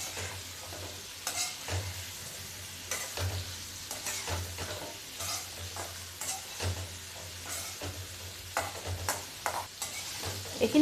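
Potatoes and poppy-seed bora fry in a pan, a soft continuous sizzle broken by rhythmic scraping strokes of a spatula stirring the mix, close and fairly quiet with no talk.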